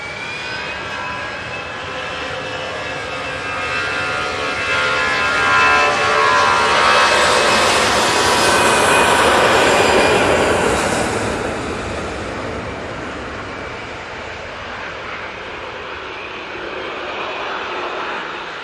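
A KLM jet at Manchester Airport roars past close by, its engines swelling into a loud, broad whine with shifting tones, peaking midway before easing off into a steady rumble.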